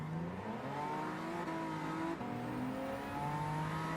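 A new Toyota Supra's engine in Gran Turismo 7 holds a steady drone that rises and falls in pitch as it revs and shifts, with a faint tire squeal and no talk.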